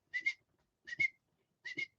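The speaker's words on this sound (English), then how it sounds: "I can whistle through my teeth or my tongue, whatever it is" Three paired, high, shrill whistles made through the teeth by a gundog trainer, spaced evenly with silence between, close and clear with no other sound.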